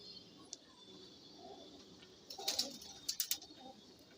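A brown Madrasi pigeon with yellow eye rings gives faint, soft coos and a few brief chirps, quiet and somewhat distant against a low background hush, with no talking.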